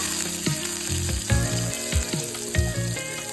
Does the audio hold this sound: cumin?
yes